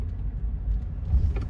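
A Mercedes-Benz 450 SEL 6.9 with its V8 running again after repair gives a deep, low rumble up close as the car pulls away, steady with a slight swell near the end.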